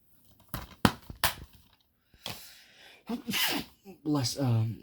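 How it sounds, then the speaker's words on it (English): A single sharp sneeze bursts out close by, set among short bits of nearby talking before and after it. "That sneeze kind of nerfed me."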